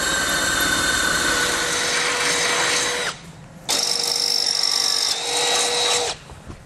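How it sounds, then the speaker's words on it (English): A power drill with a 3/8 inch bit boring lower holes through a 2019 Lincoln car frame for a Blue Ox base plate install, two loud sustained high whining runs separated by a short pause. "we're going to drill out our lower holes there using a 3/8 inch drill bit"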